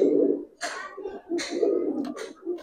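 Racer and coloring pigeons coo in a close, loud burst of soft throaty calls, repeating in short phrases with brief pauses between them.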